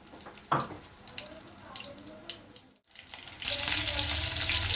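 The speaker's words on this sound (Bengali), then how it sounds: "তারপরে চিংড়িগুলো আমি ছেড়ে দিলাম, চিংড়িগুলো আমি ভেজে নেব।" Prawns drop into hot mustard oil in a kadai, and a loud, steady hiss of frying takes over after a quieter stretch of faint kitchen clatter.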